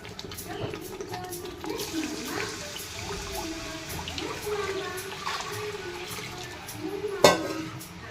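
Water being poured into a pot of amti curry in a home kitchen, a soft watery splashing and stirring beneath a speaking voice, with a sharp knock near the end.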